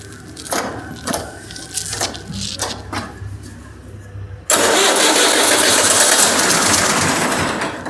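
A cold 2018 Fiat 480 diesel tractor, idle for many days, cranks in several rhythmic bursts on its starter button, then catches and roars into a loud, steady idle up close.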